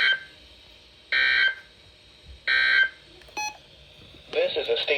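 Weather radio emergency warning alarm from the National Weather Service, sounding as two short loud steady tone bursts, followed by a brief beep and then a voice speaking.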